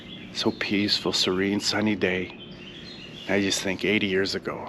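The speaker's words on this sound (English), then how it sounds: "So eerie, hearing the birds chirping today." Birds chirp outdoors on a sunny day at the Westerplatte memorial site in Poland, small tweets faint in the background beneath someone speaking close by.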